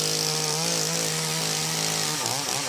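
A professional TimberPro chainsaw cuts through a wooden 6x6, a loud continuous high-revving whine that holds steady, then dips and wavers as the cut finishes.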